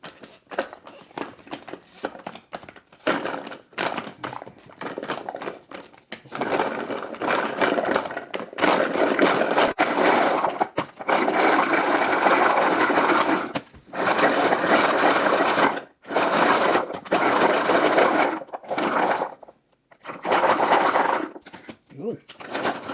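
An electric grinder grinds chili and garlic ingredients for chili garlic oil in loud, whirring bursts, switched on and off repeatedly with short pauses between pulses.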